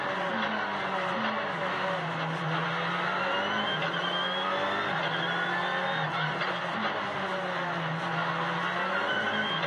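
A rally car at the Rallye Club Touquet 2022 slides through a corner, its engine droning steadily and rising and falling in pitch as it holds a drift, heard continuously from inside or close by.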